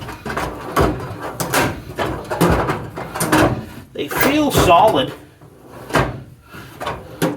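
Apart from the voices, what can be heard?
rolling tool chest metal drawers opening and closing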